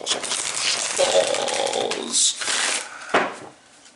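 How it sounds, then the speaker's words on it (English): A deck of cards is riffled and shuffled in a few rapid, papery bursts, with a sharp snap near the end. "Let's give these a couple more shuffles."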